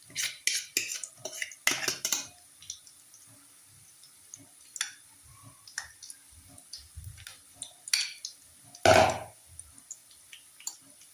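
A spoon stirs raita for chaat in a bowl, with irregular scraping and clinking against the dish, loud bursts early on and one sharp clatter near the end, scattered quieter taps between and no talking.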